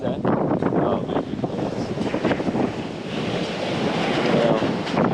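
Caribbean ocean waves on an Aruba beach rolling in with a loud, continuous roar, buffeted by strong wind noise on the microphone.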